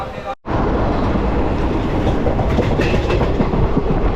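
Loud, continuous rumble of a train rolling along the tracks in Kerala, with a constant rattling clatter heard from inside the carriage.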